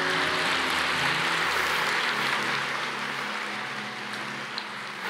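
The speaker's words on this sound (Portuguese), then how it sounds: "Aplauda o Senhor." A church congregation applauds, a dense hiss-like wash of many hands clapping steadily, sounding somewhat distant and fading a little toward the end, with a low organ or keyboard tone fading out early.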